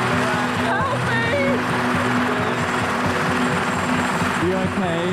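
Steady loud rotor and turbine drone from a helicopter flying over the Swiss Alps, running continuously beneath close voices that talk throughout.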